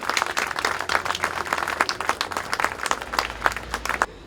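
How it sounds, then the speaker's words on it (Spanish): Audience applause at a tribute event honoring María Emilia Marchi of Casa de Miguel, a dense crowd of clapping hands sustained for about four seconds, then stopping abruptly. "les pido un aplauso para la Rusia, María Emilia Marchi, de la Casa de Miguel"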